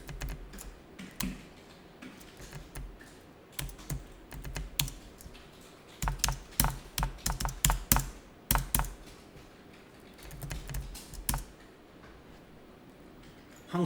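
Data entry typed on a computer keyboard, close and fairly quiet, with bursts of rapid key clicks separated by pauses.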